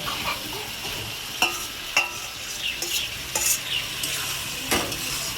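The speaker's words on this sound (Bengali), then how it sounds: "ভেজে রাখা আলু ফুলকপিগুলো এর মধ্যে দিয়ে দেবো।" Fried potatoes and cauliflower stirred into a sizzling spice paste in a pan, irregular scrapes and metallic clinks of the spoon over a continuous fry, close up, with no talking.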